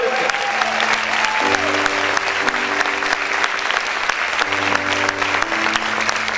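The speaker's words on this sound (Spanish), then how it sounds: "Tus aplausos para el Señor," Worshippers in a church fill the room with continuous, strong applause, clapping densely over a held organ or keyboard chord, with occasional voices over the top.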